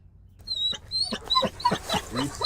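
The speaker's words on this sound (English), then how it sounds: "Sheriff's Canine is on the scene! You will get bit!" A sheriff's police K9 dog barks and yips repeatedly at close range, a rapid series of sharp, whining barks with no voices.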